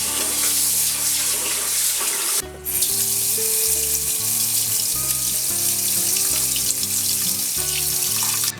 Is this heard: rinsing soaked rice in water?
yes